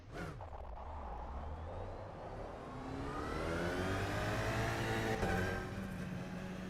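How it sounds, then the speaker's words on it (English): An Alpine A110 GT4 race car's engine in the rFactor 2 sim accelerates steadily, its pitch climbing through the gears from a low rumble to a strained, close, continuous whine. "Engine sounds pretty much the same."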